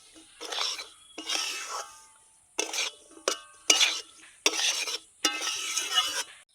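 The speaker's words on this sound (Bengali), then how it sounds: "এবার আমি ভালো করে নাড়াচাড়া করে এটা মিশিয়ে দেব।" A spoon scrapes and stirs semolina upma in a pan, coming in several separate rasping bursts with short quiet gaps between them.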